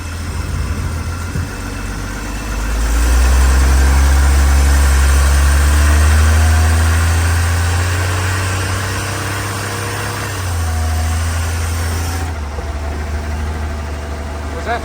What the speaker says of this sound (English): a section where we could have you just really floor it for a short distance